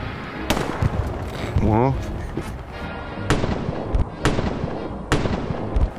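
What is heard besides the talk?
gunfire in video game Hell Let Loose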